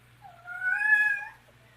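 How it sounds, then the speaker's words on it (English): A cat gives a single drawn-out meow that rises and falls, clear and close, over faint low background hum. "I gotta let my cat out."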